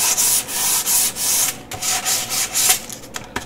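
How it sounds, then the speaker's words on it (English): Close, steady sanding of the top edges of a wooden box with 220-grit sandpaper produces rhythmic, raspy back-and-forth rubbing strokes with brief pauses between them. "I'm going to sand the top, getting my edges first"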